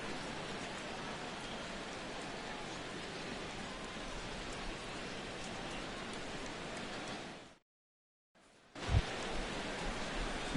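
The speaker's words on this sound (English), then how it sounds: "Rain continues to fall here in the 6th" Steady simulated rain pours over the ballpark during a Yankees–Orioles game in MLB The Show 17, a dense even hiss that briefly cuts to silence before resuming.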